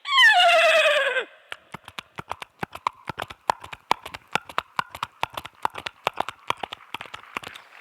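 A performer's voice mimics a frightened mare bolting, starting with a loud falling whinny and then a long run of sharp, evenly spaced clip-clop hoofbeats that carry on alone to the end.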